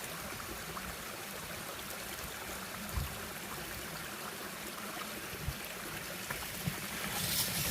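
Creek water flows steadily along a hiking trail, a soft continuous wash and trickle with a few small splashes, heard alone at moderate distance.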